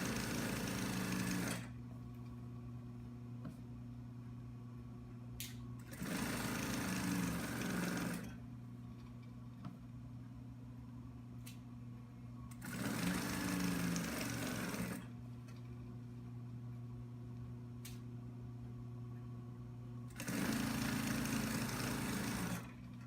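A sewing machine stitching through the layers of a T-shirt quilt, running in steady whirring bursts of several seconds separated by quieter pauses, fairly faint and close.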